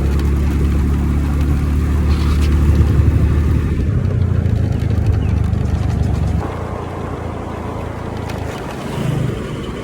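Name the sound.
motorbike riding on road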